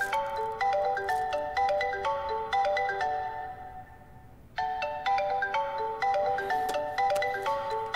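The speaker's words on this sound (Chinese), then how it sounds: "接一下电话。" A mobile phone ringtone plays a bright, repeating electronic melody of chiming notes, pausing briefly midway before starting again, loud and close in a quiet room.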